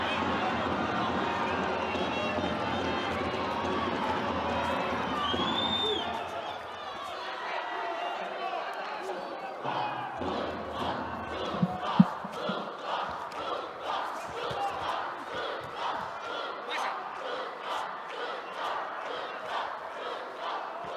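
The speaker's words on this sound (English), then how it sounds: "The crowd cheering his name." Arena crowd at a judo Grand Slam contest in Tashkent chanting and cheering for a wrestler, a loud sustained roar at first, then rhythmic chant-like cheering that pulses steadily over a busy crowd background.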